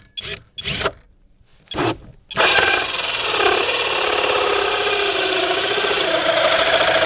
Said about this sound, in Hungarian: tudok alulról ugyanoda fúrni